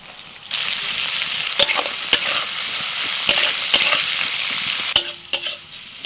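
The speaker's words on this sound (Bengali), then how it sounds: "এবার দিয়ে দিচ্ছি পেঁয়াজ কুচি।" Chopped onion hits hot oil with bay leaf, cardamom, cinnamon, cloves, cumin, garlic and ginger, a steady loud sizzle with sharp spoon scrapes and clanks against the pan, several stirring knocks spaced across the frying.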